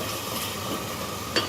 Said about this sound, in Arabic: ونقلبها كويس عشان الثوم كده ياخد راحته شويه